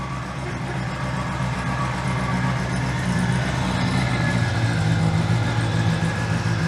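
Classic car engine idling steadily after starting, warmed up and off choke, a close continuous rumbling throb with a slightly uneven exhaust note.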